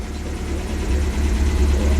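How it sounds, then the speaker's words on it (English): 1977 MGB Roadster engine idling smoothly while warm, a steady low rumble with even rapid pulses that grows slightly fuller halfway through, heard close with no talking. "It idles really smoothly now, doesn't it?"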